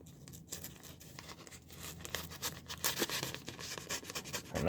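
A mail package of lock-picking gear torn open by hand, close crinkling, scratching and ripping of paper and plastic that grows louder and busier toward the end, no talk.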